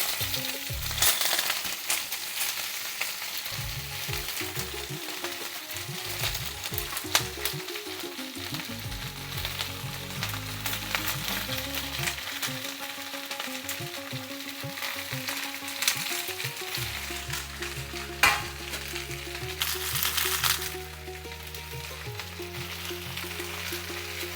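Mixed vegetables for a veg biryani fry in a pan, giving a steady broadband sizzle with occasional stirring scrapes and clinks for the whole span, close and moderately loud, with low music underneath and no talking.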